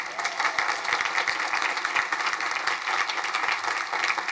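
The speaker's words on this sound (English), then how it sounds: "Let's have a round of applause for them." A large audience at a college commencement ceremony breaks into sustained, dense applause, steady many-handed clapping filling the hall for several seconds.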